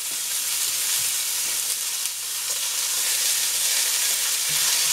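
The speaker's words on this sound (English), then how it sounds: "So while these carrots are sauteing," Carrots sauté in a hot pan with a steady, dense sizzle and hiss that stays close and even throughout, with no talking over it.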